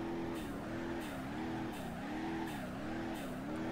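A car drifting in BeamNG.drive, its engine note rising and falling in a steady wavering cycle as the throttle is pulsed, with a continuous loud hiss of tires sliding throughout.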